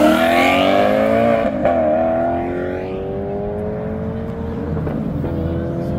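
Lamborghini Murcielago supercar accelerating hard at a supercar meeting, its loud engine climbing through a rising, harmonic-rich wail close by, then easing to a steady drone as it pulls away.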